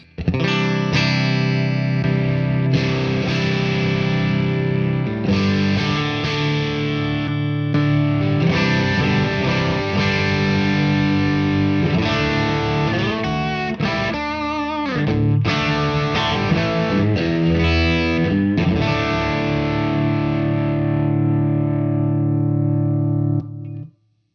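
An electric guitar plays through a compressor pedal with distortion and modulation effects, sustained chords and riffs ringing steadily for a long stretch before cutting off abruptly.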